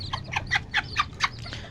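A backyard chicken clucks in a short series of about six evenly spaced, fairly close clucks, heard alone over a low background hum.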